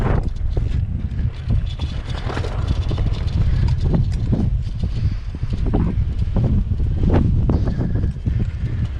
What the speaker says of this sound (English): Kind of blustery here, isn't it?